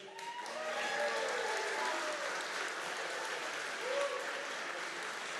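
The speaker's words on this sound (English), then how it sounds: "Can we give a round of applause for our bartender, Chris?" A crowd at an entrepreneurship innovation challenge final applauds warmly and continuously, with a few whoops and cheers rising above the clapping.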